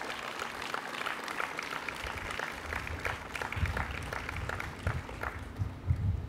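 Steady, moderate applause from an audience at an anniversary celebration, welcoming newly arrived professors, with low rumbling room noise underneath the clapping.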